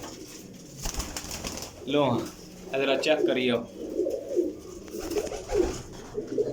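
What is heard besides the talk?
pigeons cooing, Teddy breed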